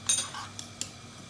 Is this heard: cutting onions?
yes